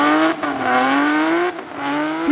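A Porsche 997 911 with a 3.7-liter engine revs hard while driving, giving a bright, harmonically rich wail. The pitch climbs steadily, with brief drops at two shifts before it rises again.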